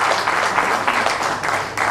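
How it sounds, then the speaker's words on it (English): Loud, close applause from an audience at a foundation day event, a full continuous burst of many hands clapping with slight swells throughout. "A huge round of applause, ladies and gentlemen."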